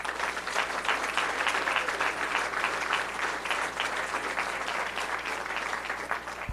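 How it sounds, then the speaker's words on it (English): A crowd at a 2018 gubernatorial election victory speech applauds, producing a dense, sustained wash of clapping that stays steady and moderately loud for several seconds, with no clear speech over it. "Please give him a round of applause."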